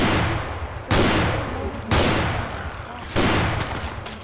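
Shotgun blasts against zombies in a video game, four loud booming shots spaced about a second apart, each tailing off before the next, with game noise underneath.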